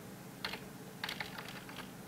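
Keystrokes on a computer keyboard while a command is entered in a terminal, coming as a few quick clusters of soft clicks against a quiet background.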